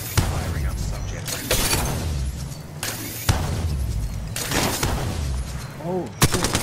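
Loud, rapid automatic gunfire from the video game Apex Legends, several sustained bursts with short gaps, continuous and close, with other game effects mixed in.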